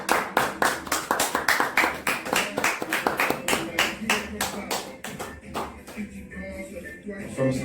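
Studio audience applauding as a president walks onto a TV talk-show set, steady rhythmic clapping from many hands that fades gradually toward the end, with no one speaking over it.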